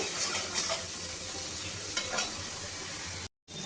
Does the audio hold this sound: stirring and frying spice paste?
yes